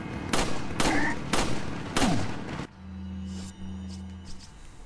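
Rifle fire in Resident Evil 4, with several sharp, loud shots spaced about a second apart and then a steady low hum with faint clicks after the shooting stops.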